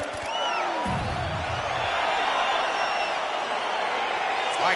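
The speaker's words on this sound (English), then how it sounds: "crowd getting excited as this fight gets underway" A UFC 4 arena crowd roars as a welterweight bout between Stephen Thompson and Gilbert Burns gets underway, a steady loud wash of cheering and whoops with a few shouted calls near the start.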